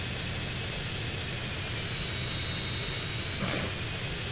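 Steady jet engine roar of a Hydra military jet in GTA San Andreas, continuous and fairly loud throughout, with a brief brighter swell of noise near the end and no talk over it.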